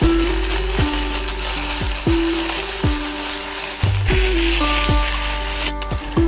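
Poppy seeds, sesame, ginger, garlic and coriander sautéing in a pan, a loud continuous sizzle with regular clinks and scrapes of a spatula stirring against the metal.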